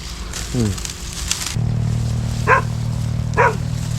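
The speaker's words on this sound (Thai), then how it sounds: "หงามาเห่าแล้วครับ" Out in wild scrubland during rat trapping, a dog barks twice at moderate distance, a few seconds apart, over a constant low mechanical hum, after a brief voice at the start.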